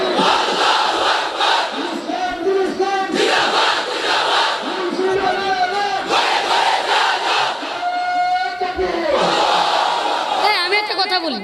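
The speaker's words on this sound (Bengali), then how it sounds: "স্লোগান তো চলবে।" Crowd at a Bangla religious sermon gathering chanting slogans in loud, rhythmic unison bursts, voices swelling and falling repeatedly across the whole span, close and dense.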